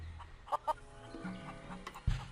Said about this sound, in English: Still got a lot of chickens around.